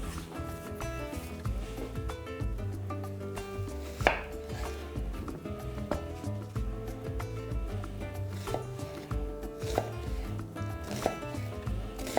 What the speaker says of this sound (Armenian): երկու փոքր գլուխ սոխ կկտրատեմ մանր